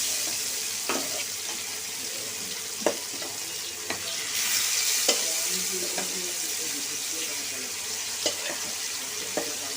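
Fish fry in oil with salt in a pan, giving a soft, continuous sizzle close by, with occasional sharp clinks of a utensil stirring and turning the pieces.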